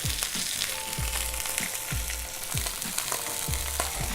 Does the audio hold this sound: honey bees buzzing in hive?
no